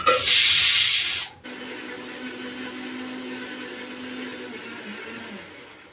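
A mixer grinder blends spices into a paste with a loud, high whirring roar for just over a second, then cuts off abruptly, leaving a quiet background hum.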